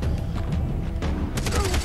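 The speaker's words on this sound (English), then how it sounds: "Okay, explosion." A burst of explosions and gunfire in the Far Cry 3 video game: scattered thuds, then a sharp cluster of cracking blasts toward the end, moderately distant and fairly quiet.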